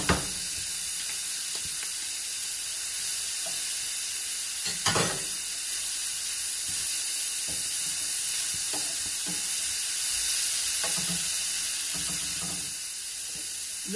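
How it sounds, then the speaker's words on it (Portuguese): Garlic sizzles in a frying pan, a steady crackling hiss that runs throughout with occasional louder spits and pops, close and continuous with no talking. "Vou juntar o alho."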